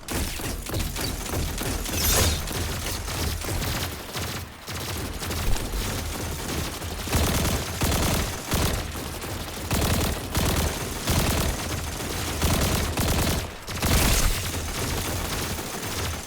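Heavy, sustained gunfire during a Destiny 2 Garden of Salvation raid, dense volleys and booms overlapping almost without pause, loud and close throughout with brief dips between barrages.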